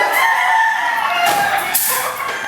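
A gamecock rooster crows close by in one loud, drawn-out cock-a-doodle-doo, with faint farmyard clucking around it.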